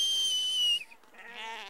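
Lambs on Kelmscott Farm, a flock of about thirty, bleat in a loud overlapping chorus that fades and then returns as a second nearer, wavering cry.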